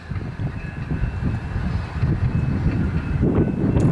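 CN business train OCS P 623 rolling eastbound through Battle Creek, Michigan, a steady, close rumble of wheels on rail that grows slightly louder toward the end, with no talk.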